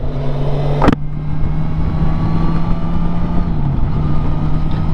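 A Kawasaki Versys 1000 SE motorcycle cruises on a highway, its engine a steady, loud drone under heavy rushing wind noise. Near the start there is a short bump or knock.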